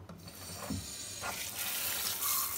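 Black-bottomed containers are washed under running water. A steady splashing gush of water goes on throughout, close and moderately loud.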